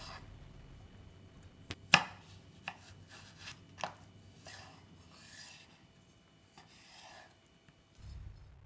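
A knife slices a cucumber into thin strips on a cutting board for sushi rolls, giving irregular sharp chops and soft scraping strokes, close and fairly quiet with no talk.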